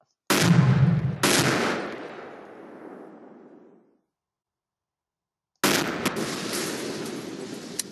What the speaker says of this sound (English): Boom! M202 rocket launcher.